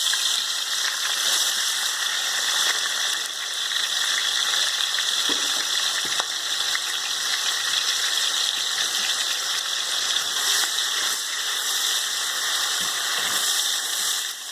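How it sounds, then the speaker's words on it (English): Onions fry in a pan for a peanut butter stew, giving a continuous close sizzling hiss with faint crackles and no talk. "now I'm going to fry in my onions"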